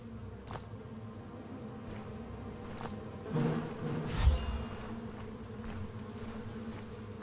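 Bees buzz continuously around two hives in the video game Stone Shard, a steady insect drone with a few brief swells near the middle, heard alone without talk.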